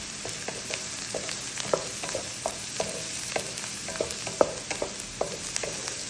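Spicy fish mixture stirred in a pan, a spoon scraping and knocking in an irregular rhythm over a steady soft sizzle, close and moderately quiet with no talking.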